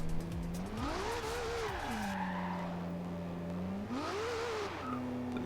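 A Nissan Skyline drift build in Forza Horizon 2 revs up and accelerates, its engine note climbing and falling through two strong pulls with tire squeal, loud and close.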